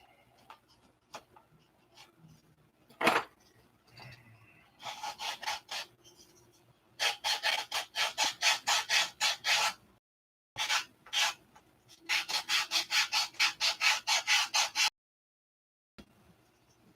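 A wooden piece is worked by hand with a rasp and sandpaper, giving bursts of rapid, rhythmic scraping strokes, loud and close, broken by short pauses, with no voices.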